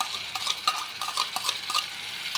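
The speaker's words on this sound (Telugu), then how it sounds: "చూడండి, ఈ పేస్ట్ ఇప్పుడు వేస్తున్నాను." Ginger-garlic and biryani paste are stirred into a pan for a restaurant-style mushroom curry, with a faint, rhythmic scraping of a utensil against the metal pan.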